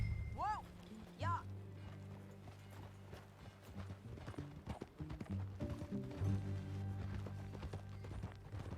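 Horse hooves clip-clop at a steady walking pace while riding on a ranch, with a brief whinny early on, and people talk over the hoofbeats throughout.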